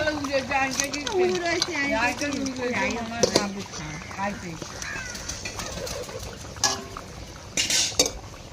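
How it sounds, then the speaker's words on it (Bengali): Fried rupchanda fish goes into a simmering sour fish curry in a pot, with clinks of a metal spoon against cookware and soft liquid stirring sounds while someone talks over it. "সিদ্ধ হয়ে গেছে, আবার ভেজে রাখা মাছটা দিয়ে দেবো।"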